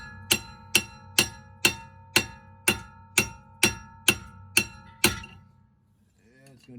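Eleven sharp, evenly spaced metallic hammer strikes ring out on the rusted rear brake rotor of an Alfa Romeo Giulietta, each blow clanging with a short ringing decay, close and loud, then a brief faint sound after they stop.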